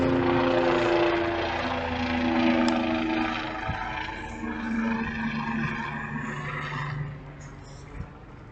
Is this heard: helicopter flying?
yes